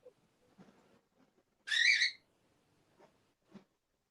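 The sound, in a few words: bird making a weird call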